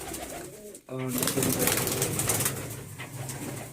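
Pigeons sitting on eggs in a winter coop give soft, low, throaty coos close by, with rustling and a voice in the background.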